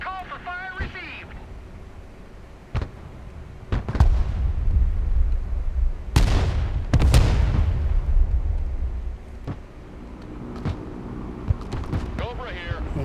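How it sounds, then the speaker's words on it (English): Mortar fire and explosions in the video game Broken Arrow, sharp booms and bursts at irregular intervals with rumbling tails, mixed with game radio chatter and a voice speaking. "Mortar ready, sir. Call for fire received."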